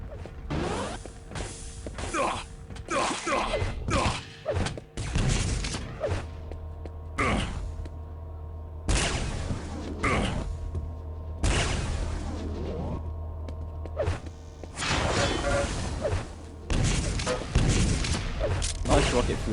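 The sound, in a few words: rocket and railgun fire in the video game Quake Live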